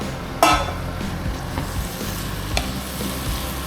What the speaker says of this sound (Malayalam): സോയ ഇടുന്നു എന്നിട്ട് ഇത് നല്ലപോലെ ഇളക്കണം